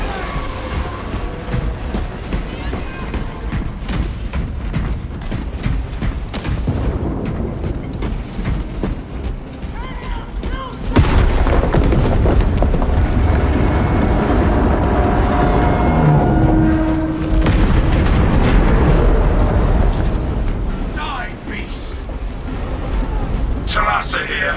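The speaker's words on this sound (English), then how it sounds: "Detonate the charges now." Detonated charges exploding in Warhammer 40K: Space Marine 2, a loud broadband blast midway that swells into a sustained heavy rumble for several seconds, mixed with game voices and battle noise.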